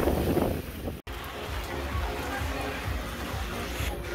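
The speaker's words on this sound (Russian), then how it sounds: "Волны серьезные такие." Heavy sea waves rolling onto a beach in Golden Sands, Bulgaria, under an overcast sky, a steady, dense roar of surf with strong wind buffeting the microphone and a voice talking over it.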